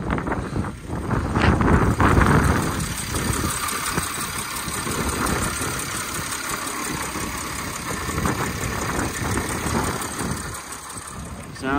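A Mercedes Sprinter V6 van, formerly an ambulance service crew van with 145,000 miles, idles steadily outdoors, its engine rumble partly masked by loud gusting wind.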